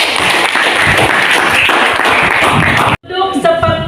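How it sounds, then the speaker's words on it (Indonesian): Students in a classroom give a loud, dense round of applause for about three seconds. It cuts off abruptly, and then a voice speaks. "Tepuk tangan untuk semuanya."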